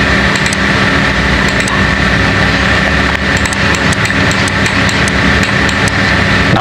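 Nails being hammered into a wooden crate for vegetables and fruit, a series of sharp, irregular blows ringing out over a loud, steady engine-like drone throughout.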